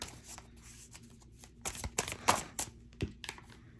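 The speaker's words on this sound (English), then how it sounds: "Give me a couple of cards for Green Fairy." Tarot cards are shuffled and drawn by hand, a close series of soft riffling flicks and slaps, quieter at first then busier in the second half, with no talking.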